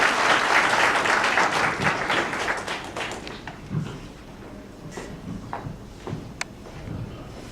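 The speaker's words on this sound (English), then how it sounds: "Please clap the hand for the sir." An audience at a college placement drive applauds the chief guest with loud, dense clapping that thins out over several seconds into a few scattered claps and footsteps.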